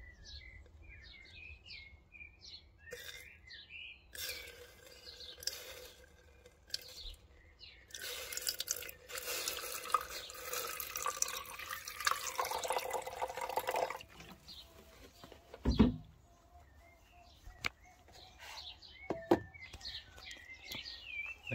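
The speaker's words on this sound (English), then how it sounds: "I'll pour in hydrochloric acid" Hydrochloric acid is poured slowly into a glass beaker while refining gold from a waste solution, giving a soft trickling, splashing stretch in the middle with scattered drips, while birds chirp faintly in the background.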